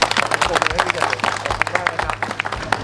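Audience applause at a campaign event introducing new parliamentary candidates in Thailand's northeast, a dense patter of many hands clapping up close, with crowd murmur mixed in.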